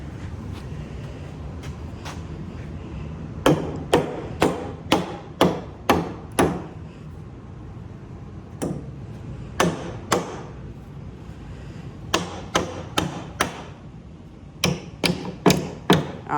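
Repeated hammer blows drive dividers into a wooden lumber crate in quick bursts of several sharp knocks, pausing between runs, close by and fairly loud with no talking.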